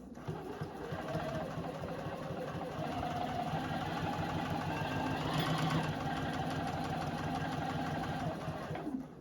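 A JUKI sewing machine stitches the side seam of a holiday stocking cuff at a quarter-inch allowance, a continuous fast mechanical whirr with rapid needle ticking, steady and fairly quiet.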